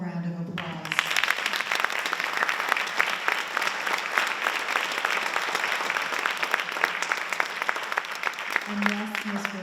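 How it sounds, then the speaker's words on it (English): A school board meeting audience gives sustained, loud applause for teachers and educational support staff; a voice speaks briefly before the clapping swells and again as it dies away. "So I'd like to give all of you a wonderful round of applause."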